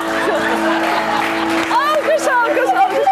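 Studio audience breaks into applause with cheers and whoops on a Turkish late-night talk show, loud and continuous, while voices talk and call out over it.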